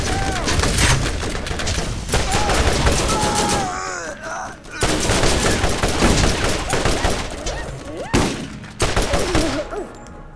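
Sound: gunfire in the video game Borderlands

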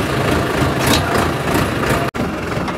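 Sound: engine running on the farm

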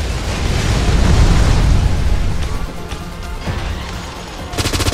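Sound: gunfire from the video game Snowbreak: Containment Zone

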